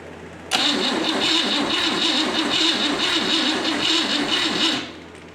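A 1960 Cadillac 390 V8 fires up for the first time in years on a rebuilt carburetor, a sudden start settling into a loud, steady, rhythmic idle that drops away near the end, no talk.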